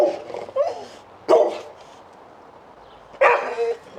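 Neighbors' dogs bark in three separate bursts, each a cluster of sharp barks and yips, at moderate distance with quiet gaps between them and no talk.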